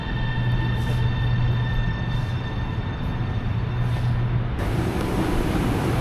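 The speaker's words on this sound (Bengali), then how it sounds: "আর এই মেট্রো ঢুকে পড়েছে" A Guangzhou metro train pulling into a station, a steady close rumble with a low hum and a high whine, the sound shifting and brightening as it rolls in.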